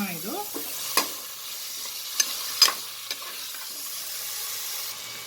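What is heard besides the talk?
stirring kabuli chana and coriander in a pan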